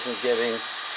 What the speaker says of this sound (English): So the 3D printer is going at it right now, making the base.